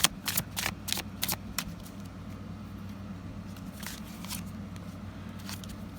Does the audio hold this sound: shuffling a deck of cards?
yes